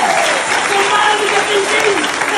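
Audience applause at an Indonesian Christian healing prayer service, a dense steady wash of clapping from a crowd, loud and close, with a voice and some harmonic tones carrying over it.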